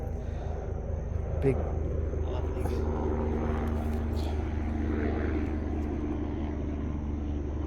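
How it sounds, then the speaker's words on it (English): A low-flying helicopter's steady drone rumbles overhead throughout, with faint voices and small handling noises nearby. "a helicopter flew over. Yeah, he's very low."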